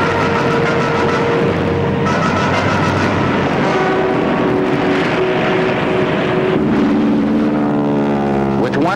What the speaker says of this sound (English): HK-33 sends out its seaplane to search for other enemy ships